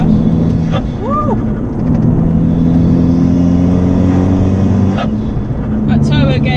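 A modified Abarth with a turbocharger drives on an open road, its engine rumbling loudly and steadily close by while a passenger voice whoops and talks over it; the drone swells and falls slightly as the throttle changes.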